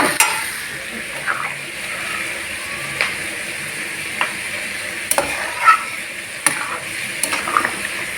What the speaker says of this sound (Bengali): উঠছে আলু ভাজা হচ্ছে